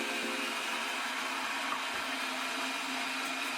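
Ice cream maker with its motor whirring as ingredients are fed through a second time for a smoother result: a steady, fairly quiet mechanical hum with a blender-like whine, continuous and alone.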